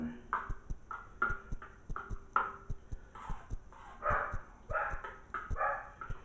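Dogs bark at a campsite in a rapid, repeated series of moderately loud barks, with faint steady clicking ticks running underneath.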